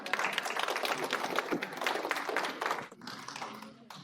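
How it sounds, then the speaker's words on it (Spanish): An audience at a church service applauds in a dense, continuous wash of many hands, fairly close, easing off slightly toward the end. "Vamos a darle otro aplauso a ella"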